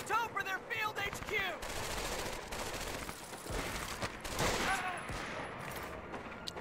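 Rapid machine-gun fire and scattered gunshots crackle in a World War II shooter game battle near a German field headquarters in an old chateau. Bursts come in and out under shouting voices.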